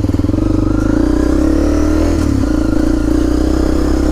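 A Honda CRF250L motorcycle revs hard while chasing two-stroke dirt bikes, its engine droning steadily loud and close with a slight dip and recovery in pitch midway, no voices.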